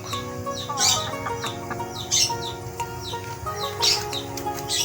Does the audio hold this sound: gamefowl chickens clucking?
yes